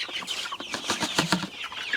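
Seven-week-old pullets on a farm cluck and chatter in quick overlapping bursts, several birds close by with brief flaps between calls.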